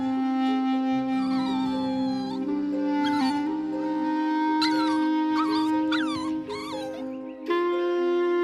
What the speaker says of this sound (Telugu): ఇదేదో కుక్క పిల్ల గొంతులో ఉంది. చాలా చిన్నదై ఉంటుంది కదా.